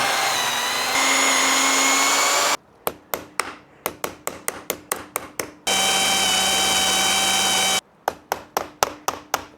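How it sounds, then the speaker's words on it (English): A power drill bores through a part on a Yamaha XT660Z Ténéré motorcycle, with two sustained, loud whining runs, each followed by a quick series of sharp, rhythmic knocks. "I'm going to drill through"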